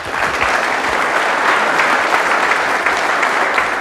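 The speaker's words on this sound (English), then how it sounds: "give a big round of applause for Michael Schratt" A conference audience gives a speaker sustained applause, a dense, even wash of many hands clapping at moderate distance, steady and fairly loud throughout with no talk over it.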